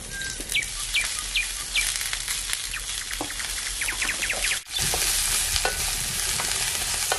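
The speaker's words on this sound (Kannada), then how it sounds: "ಅರ್ಧ ಬರ್ಧ ಹುರಿಬೇಕು ಈರುಳ್ಳಿ, ಹಂಗ ಹುರ್ಕಂಡ್ರ ಸಾಕಾಗುತ್ತೆ." Onions frying in a little oil in a pan, stirred with a spoon: steady sizzle with repeated scraping strokes and faint bird chirps in the background, a brief dip near the middle, no talk.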